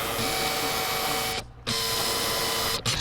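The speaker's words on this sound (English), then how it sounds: "I just hold the airbrush in one spot, fade different colors through the whole thing" An airbrush sprays paint onto an Easter egg, starting with white, giving a steady close hiss of compressed air that cuts out briefly around the middle before resuming.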